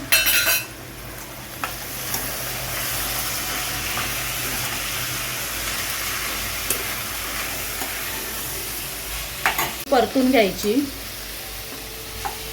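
Carrots, peanuts and potato sautéed in a pan for a Maharashtrian mixed vegetable dish, giving a steady close sizzle with brisk stirring, and sharp clatters of a spoon against the pan near the end.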